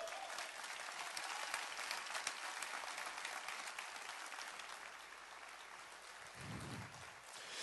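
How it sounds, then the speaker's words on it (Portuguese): A church congregation applauds together, a dense, sustained wash of clapping heard at a moderate distance that carries on for several seconds with a brief low-pitched voice near the end. "Você pode aplaudir o Senhor?"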